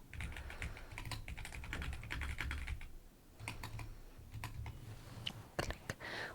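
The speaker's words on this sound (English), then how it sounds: "I'm glad you enjoyed the typing, Amber." Steady typing on a computer keyboard, a dense run of clicky keystrokes with a short pause near the middle before the tapping resumes, close and fairly quiet.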